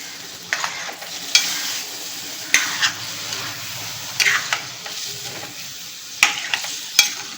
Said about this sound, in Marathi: आता आपण हे दही टाकून घेऊ आणि हे आता आपण पुन्हा मिक्स करून घ्यायचं